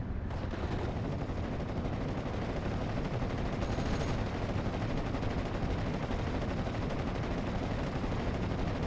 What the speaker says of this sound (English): Kills off the Ostrupen right there with the usage of this T-30 support weapon